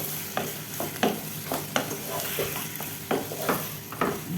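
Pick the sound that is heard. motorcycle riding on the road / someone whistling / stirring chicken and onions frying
stirring chicken and onions frying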